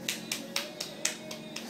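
A small child claps his hands about seven times in a steady, even rhythm, each clap crisp and close, with no talking.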